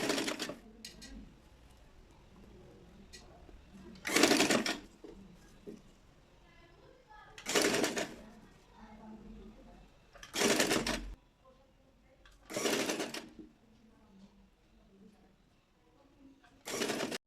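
A sewing machine stitches gathers into baby frock fabric in five or six short, loud whirring bursts, separated by quiet pauses with faint handling noises.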